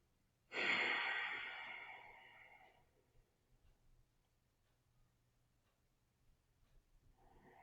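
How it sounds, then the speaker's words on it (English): A single deep inhale during a slow stress-reduction breathing exercise, close and fairly loud, fading over about two seconds into near silence with faint rustles before another breath begins at the end. "we inhale"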